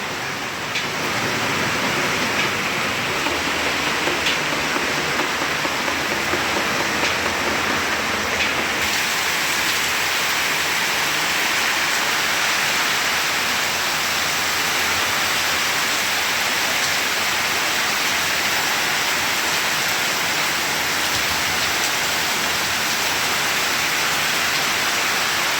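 Steady rain falls continuously over a farm field sown with crops on a drizzly afternoon, a dense even hiss that fills the whole span with no voices.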